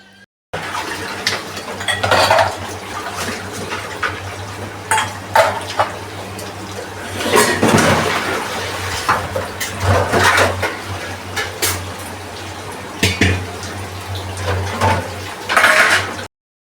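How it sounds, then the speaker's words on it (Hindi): Dishes, pots and utensils are washed by hand at a home sink in the early morning, with running tap water and repeated clinks and clatters of metal and crockery, fairly close and loud, no speech. "अब मैं बर्तन फटाफट से साफ़ कर ले रही हूँ। जो भी बर्तन है वो सारी साफ़ कर लूँगी।"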